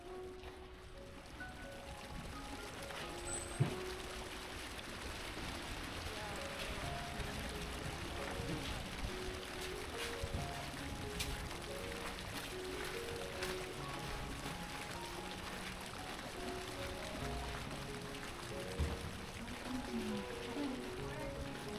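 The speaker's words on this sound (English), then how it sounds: "the soft sound of flowing water is just so peaceful and relaxing" A steady, soft wash of flowing water runs throughout a village in Takayama, Japan, gentle and continuous, with faint background activity but no clear voices.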